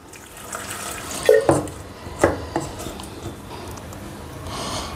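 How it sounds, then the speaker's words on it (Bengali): Water poured into a pot of bitter gourd and bottle gourd dal, a few short splashes and pours close by with quiet kitchen background and no talk. "এবার আমি জল দেবো, খুব বেশি জল দেবো না"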